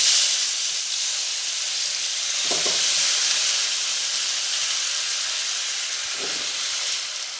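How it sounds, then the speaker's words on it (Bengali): Washed, cut vegetables dropped into hot oil for a home-style chicken curry give a steady, loud sizzling hiss that holds throughout, with a couple of brief clinks of a utensil against the pan. "এবারে গরম তেলে দিয়ে দেব।"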